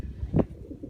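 Young racing pigeons in a loft in the Netherlands give a soft, low coo that swells briefly near the middle, set over a dim murmur of birds close by.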